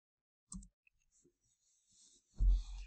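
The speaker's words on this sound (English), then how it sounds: "we then press the store key on the keyboard to save our program" Keys pressed on a Teledyne Isco syringe pump keypad, a couple of distinct close clicks separated by near silence, ending with a louder thump.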